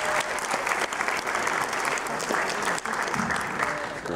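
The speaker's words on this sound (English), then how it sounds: "Round of applause for Graham." Audience applause at a live country concert, a loud, steady wash of many hands clapping that lasts several seconds at full strength, with a faint voice or crowd noise mixed in.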